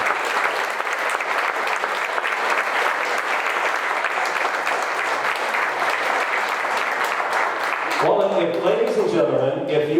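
A county fair crowd gives Jerry a sustained round of applause at a senior recognition, a thick, even wash of clapping lasting several seconds before a voice comes in over the end.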